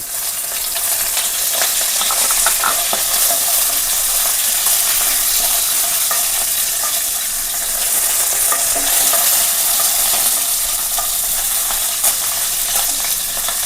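Garlic and curry leaves fry in hot oil in a pan for an eggplant gravy, giving a loud, steady sizzle and hiss with scraping stirs running throughout.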